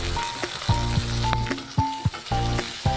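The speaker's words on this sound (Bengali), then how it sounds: "এখন ওই ভাজা পেঁয়াজে চেরা কাঁচা লঙ্কা, টমেটো আর স্বাদ অনুযায়ী নুন দিয়ে নেড়ে নেব" Fried onions tossed with split green chillies, tomato and salt crackle softly in a pan while a spatula scrapes and clinks against the metal in a regular, repeating stirring rhythm.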